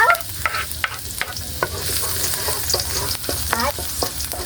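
Garlic sautéing in a pan for a corn and malunggay dish, a steady sizzle with sharp clinks and scrapes of a stirring utensil against the pan, close and with no talking.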